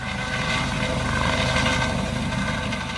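A Coast Guard helicopter at Coast Guard Station Annapolis lifting off with its crew, a loud, steady, close rotor roar and engine whine filling the air with no voices.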